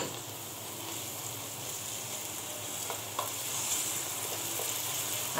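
Onion and garlic fry in a pan with a constant, even sizzle, close and moderately loud, with a couple of faint clicks of stirring.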